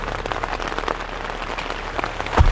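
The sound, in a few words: rain falling in a forest at night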